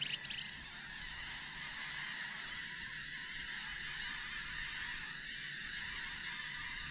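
A huge winter flock of knot waders calls across the Dee Estuary on the North Wirral coast, a dense, continuous chatter of many birds at moderate distance, steady throughout.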